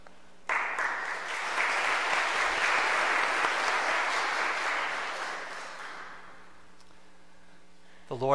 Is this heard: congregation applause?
yes